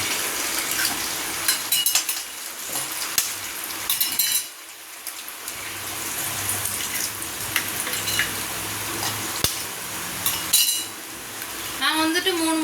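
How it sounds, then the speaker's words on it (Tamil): Eggs are cracked into a pan of hot oil in a home kitchen, bringing a bright, steady sizzle with clinks of utensils and shell taps against the pan, close and fairly quiet. "அதில் முட்டையை உடச்சி ஊற்ற போகிறோம்."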